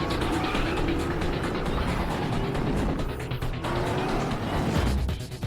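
Batman's Tumbler from The Dark Knight (2008) roars with a continuous, loud engine drone that holds steady throughout, dense and close, with no voices over it.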